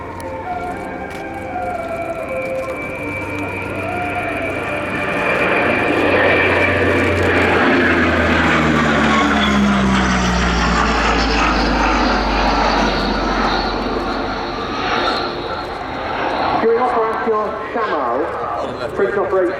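A French Navy Bréguet Atlantique 2 maritime patrol aircraft flies past at RIAT air show, its loud turboprop drone swelling and sweeping down in pitch as it passes, with someone narrating over it.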